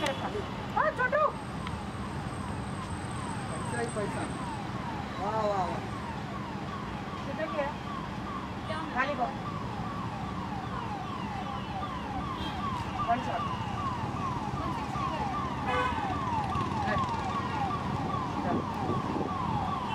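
An ambulance siren wails with a steady rising and falling tone, passing by under continuous background noise while people talk over it.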